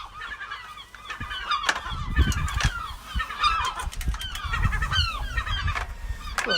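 Baby seagull being carried back up a ladder to its nest, giving repeated harsh, honking calls in irregular bursts close by, with handling noise and rustling beneath.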